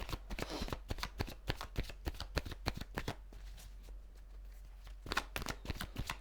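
Tarot cards shuffled by hand in quick, riffling bursts of papery slaps and flicks, close and clear, with a short pause midway before another burst of shuffling; no talking.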